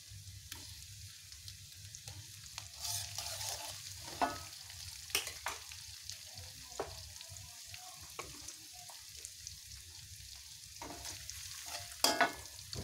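Shallots, garlic and sliced tomato are stir-fried until wilted, with a soft, constant sizzle broken by scattered spatula scrapes and light clinks against the pan.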